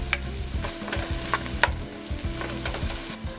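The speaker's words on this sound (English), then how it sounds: "I'm going to toss these shallots in the melted butter and let them cook for about 5 minutes" Shallots sautéing in melted butter crackle and sizzle steadily in a pan, with scattered sharp pops and the scrape of stirring, close and alone without any voices.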